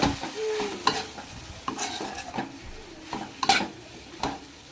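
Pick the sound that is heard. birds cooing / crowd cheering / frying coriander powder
frying coriander powder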